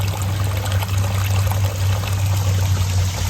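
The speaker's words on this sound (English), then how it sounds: "on the right, the water just gently hugs that rock as it comes down" Water trickles and splashes steadily down the rocks of a pondless garden waterfall beside a copper weeping maple, a close, continuous pour with a low rumble and no voices.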